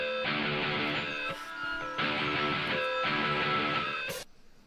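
An excerpt from a wrestling entrance theme plays as bright, dense rock music in bursts, with short breaks between the phrases, then cuts off near the end. It sounds moderately loud and clear, with no talking.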